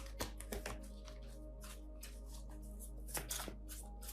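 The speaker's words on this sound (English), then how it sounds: "I'm just going to shuffle till it feels right" Tarot cards are shuffled by hand in repeated riffling bursts with sharp snaps, close and clear, with no talking over them.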